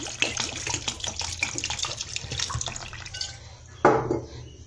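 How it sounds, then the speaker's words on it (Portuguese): Cold tap water running and splashing over boiled sweet potatoes in a kitchen, a steady stream with scattered drips and then a sudden louder gush near the end, close and without talking. "vou pôr uma água gelada pra parar o cozimento"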